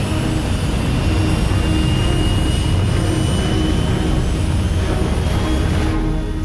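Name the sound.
aircraft engine during autopilot takeoff, cartoon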